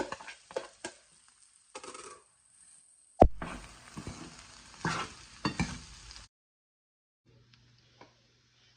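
Sabudana khichdi with potato is stirred in a pan, giving intermittent scraping and sizzling bursts with a sharp clunk partway through, then quiet with a faint hum near the end.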